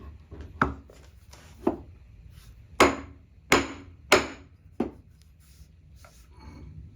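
Chisel struck with a mallet to knock out wood for a rear seat joint, several sharp, separate knocks at irregular intervals, close and distinct over quiet background.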